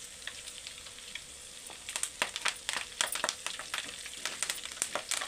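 Ginger garlic paste fries in hot oil for mutton pachadi, first a soft hiss, then a busier crackling sizzle with sharp spits and pops from about two seconds on, close by and without talk.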